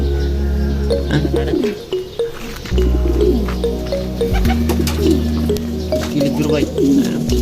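Banded racing pigeons coo softly in repeated low calls through a continuous outdoor hum, with chirps and short sounds of movement close by.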